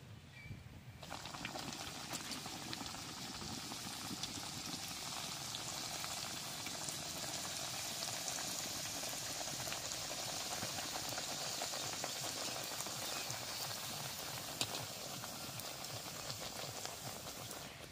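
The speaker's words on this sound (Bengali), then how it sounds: "তেলটা গরম হয়েছে, এখন বেশ সুন্দর করে ভাইজে নেব।" Food frying in hot oil gives off a steady, even crackling hiss that carries on unbroken for the whole stretch at low, close volume.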